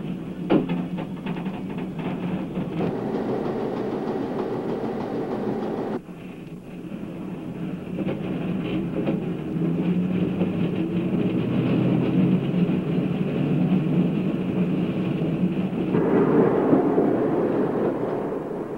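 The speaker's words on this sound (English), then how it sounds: "The 4-car train arriving is headed by 318, a Jewett product, all wood, built in 1914 and later sheathed in steel." A four-car electric interurban train on the Chicago, Aurora & Elgin, led by wooden Jewett car 318 (built 1914, later steel-sheathed), rolls in with a steady, heavy rumble that swells as it draws closer, with faint wheel clatter and no voices.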